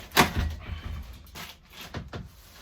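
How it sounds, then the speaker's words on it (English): A door is opened in a workshop during the unboxing of a Brewtools B80pro brewing system, a sharp close thud followed by a few scraping and rattling movements. "Open that door."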